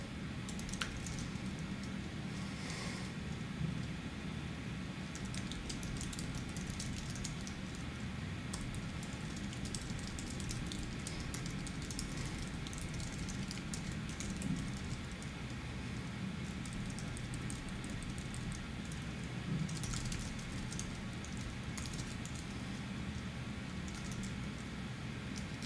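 A computer keyboard is typed on steadily as a prompt is entered, with faint soft clicking beneath constant low background noise, quiet and with no speech.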